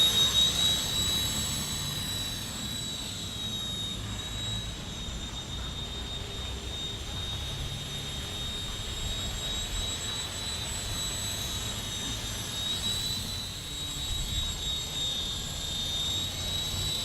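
Walkera 180Z auto-stabilizing RC helicopter flying outdoors on a breezy day, a thin high-pitched rotor and motor whine held steady at moderate distance over soft wind rumble.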